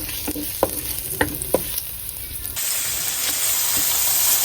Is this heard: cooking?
yes